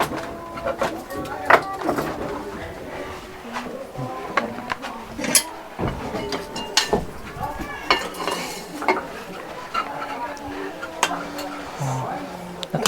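Plates and cutlery clink and scrape as a simple meal with rice and sardines is served, with scattered sharp taps at irregular intervals under steady talk from children and adults.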